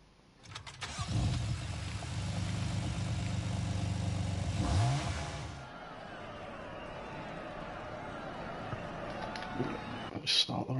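Racing car engines in the Gran Turismo video game rev and roar loudly for several seconds, then drop to a lower steady drone, with voices talking over them.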